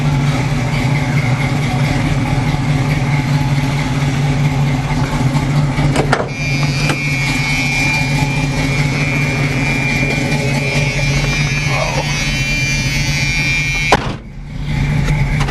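A 1978 Camaro with a smoking valve cover filter idles and runs steadily, a loud, even engine rumble close by, broken by a couple of sharp clunks, with no voices.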